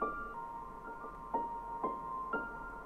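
A soft, faint synth melody is heavily drenched in reverb and delay and slowed by a halftime effect. Sparse bell-like tones ring out about every half second over a washy, lingering tail, with no voices.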